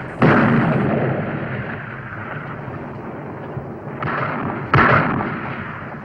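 Cannon artillery fired in a Civil War battle scene, three heavy booming blasts, one at the start and two close together near the end, each with a long rumbling tail.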